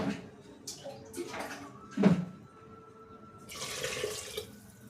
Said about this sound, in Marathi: तर आता याच्यामध्ये पाणी टाकून घेऊया